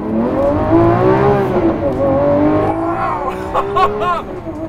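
Lamborghini Aventador SVJ in sport mode revs hard with a rising engine howl, then a gear change brings a brief dip and a crackling, popping exhaust burst, loud and close inside the car.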